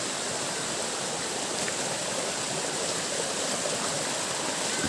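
Purikot Falls, a waterfall at a tourist spot in Libmanan, gives off a steady, dense rushing roar. The water noise is close and continuous and fills the whole sound, with no voices.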